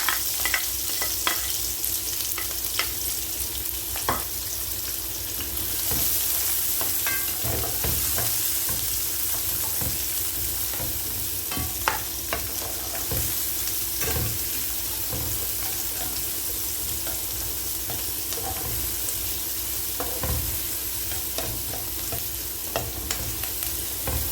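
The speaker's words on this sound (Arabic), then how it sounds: "اول ما يقدحوا كده هنزل بالبصله" Onion goes into hot oil in a pan for a cauliflower omelette and fries with a loud, steady sizzle that lasts throughout, broken by occasional stirring scrapes and clicks close by.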